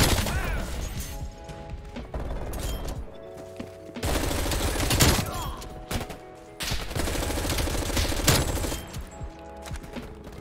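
Gunfire from the FARA 83 rifle in Call of Duty Cold War, rapid bursts of automatic shots with loud clustered cracks, broken by short lulls, against in-game ambient noise.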